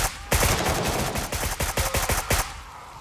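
A magazine emptied in the shooter Gray Zone Warfare: a loud, close burst of about a dozen rapid rifle shots in an uneven string, then a fading tail of ambient noise.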